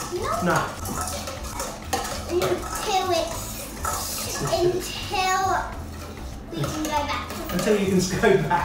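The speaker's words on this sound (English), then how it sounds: "It's a left-handed whisk." Batter being whisked in a bowl for a peach melba Dutch baby pancake, rapid rhythmic metallic scraping strokes close by, with an adult and someone talking over it.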